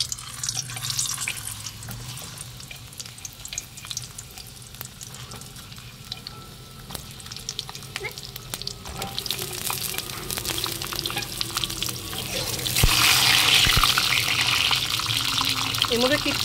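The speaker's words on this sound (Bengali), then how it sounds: "প্রথমেই আমি কড়াইতে তেল দিয়ে নিয়েছি, পটলগুলোকে একটু লাল লাল করে ভেজে নেবো তার জন্য।" Pointed gourd pieces frying in oil in a wok with no salt or spices, a continuous sizzle with crackling pops, steady and close, swelling louder toward the end.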